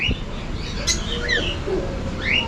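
Cockatiels in a breeder's cages let out several short chirps and whistling calls against a low rumbling background, with no voices.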